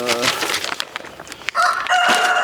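Chickens in a farm flock cluck and crow loudly and close by, with several overlapping calls and a rooster-like crow near the end, while no one speaks.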